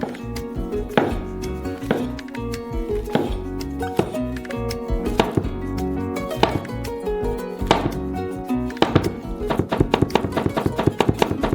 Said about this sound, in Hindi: जबकि ये गर्म हो रहा है, हम मशरूम्स को काटेंगे।